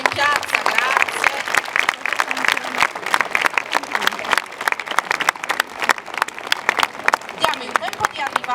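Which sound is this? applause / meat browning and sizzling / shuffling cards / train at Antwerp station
applause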